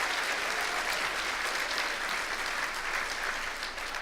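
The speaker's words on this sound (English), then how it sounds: "give a big shout out and clap here" An audience claps steadily at an awards luncheon, a dense, continuous wash of applause that holds at an even level for the whole stretch and eases slightly near the end, with no talking over it.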